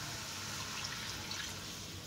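Water pours into a pot of button mushroom curry, giving a steady, soft liquid hiss and trickle that stays close and continuous for a couple of seconds.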